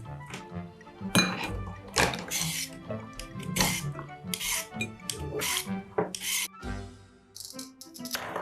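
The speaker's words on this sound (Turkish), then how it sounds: "Şimdi havuç rendeliyorum Defne." A carrot is grated in a children's toy kitchen, with irregular rasping scrapes and light plastic clinks and knocks close by, some strokes louder than others, with soft background sounds between.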